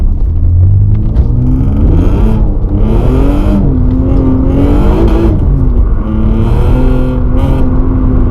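An Alfa Romeo car engine revs hard and loud, its pitch climbing and falling in repeated surges over a steady low rumble.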